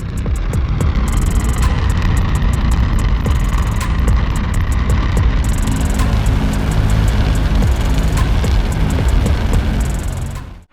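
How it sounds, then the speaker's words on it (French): A SpaceX Raptor rocket engine roars through a test firing, a loud, dense, unbroken broadband rumble that holds steady for several seconds before cutting off abruptly at the end. "L'essai du moteur du Raptor par SpaceX semble tout droit sorti d'un film de science-fiction"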